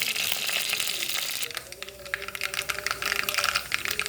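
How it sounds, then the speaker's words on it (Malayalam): Mustard seeds popping in hot coconut oil for a Kerala mango curry, a dense steady sizzle broken by many quick crackling pops, close and fairly loud, with no talk. "കടുക് പൊട്ടുന്നുണ്ട്."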